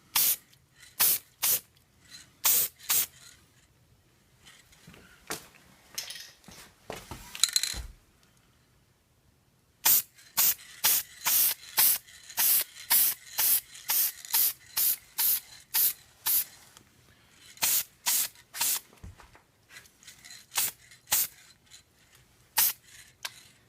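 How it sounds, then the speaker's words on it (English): Short sharp bursts of aerosol adhesion promoter spray, hissing in quick repeated pulses with brief pauses between groups, close to the listener. "So you just want to do a really light spray of this stuff."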